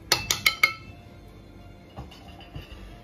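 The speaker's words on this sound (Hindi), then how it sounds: "जी अब मैं इसको प्रेशर कुकर लगा दूंगी, मतलब लिड लगा दूंगी प्रेशर कुकर को।" A metal pressure cooker lid going on in a home kitchen: four quick, bright metallic clinks close by in the first moment, then only faint scattered clatter against a quiet room.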